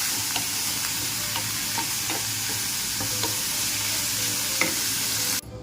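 Chopped beet, carrot, cucumber and onion frying in a pan, a loud continuous sizzle with repeated scraping stir strokes close by, cutting off abruptly near the end.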